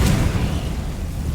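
A Confringo spell in Hogwarts Legacy bursts in a single booming blast, loud at the onset and then fading into a low rumbling tail.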